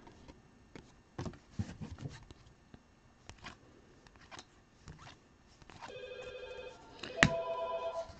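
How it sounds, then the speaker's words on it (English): A landline telephone rings from about six seconds in, a steady electronic trill with a sharp click near the peak, after scattered handling and rustling noises in a quiet room. "Let me just pick up the phone and hang it up so it'll stop ringing."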